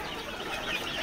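Desi chickens cluck and murmur close by in a brief, busy burst of overlapping fowl calls, with no talk.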